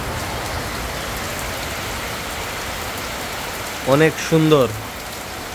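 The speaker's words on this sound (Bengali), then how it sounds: "তো আবার চলেন বৃষ্টিটা দেখে।" Heavy rain falls in a steady, dense hiss that fills the whole stretch, with a voice speaking briefly near the end.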